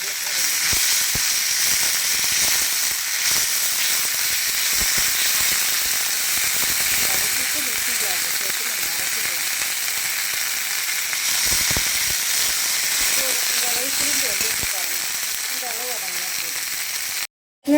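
Drumstick leaves (moringa) sautéing in a pan while being prepared for a dosa batter, giving a steady, loud broadband sizzle and hiss with occasional scraping stirs, continuous for the whole stretch before it cuts off.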